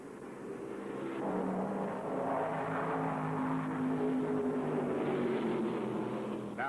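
A pack of 1974 stock cars runs a four-car draft around the high banks of the World 600, a sustained engine roar that builds and holds steady at moderate distance, with no one speaking.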